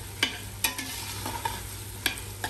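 Onions and tomato puree fry in oil in a pan while a spoon scrapes and stirs them. Sharp, irregular clacks sound about six times over a soft, steady sizzle, close and clear, with no voices.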